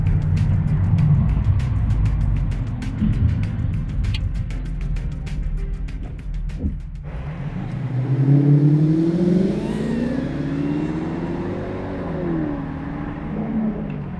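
A Lexus SC 430 or Mercedes C43 AMG engine rumbles steadily up close, then revs in several rising and falling sweeps, loud and alone.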